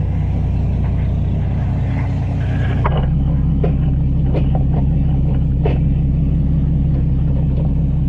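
A car engine running loudly right after a transmission install, a steady close rumble with a pulsing low drone whose tone shifts partway through, with a few faint knocks and clicks over the top and no talking.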